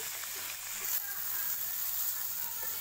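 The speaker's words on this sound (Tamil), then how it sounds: "அப்படியே திருப்பி போட போகிறோம் பாருங்கள் இந்த மாதிரி நல்லா ஃப்ரை ஆகிருக்குது" Fish fries in a pan of hot oil in village-style home cooking, giving a continuous, even, hissing sizzle that stays close and steady throughout.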